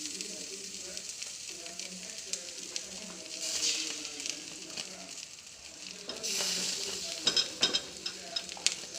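Fish sizzles and fries steadily in a hot pan, with a louder burst of crackling and scraping as it is flipped over; faint voices sit low in the background.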